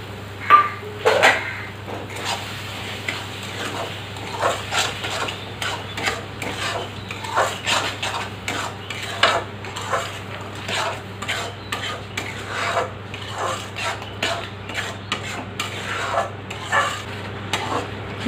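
Sugar is stirred into tomato chutney in a pan, with repeated scraping and clinking of a spoon against the metal pan in an irregular rhythm over a faint steady hum, close and moderate in level.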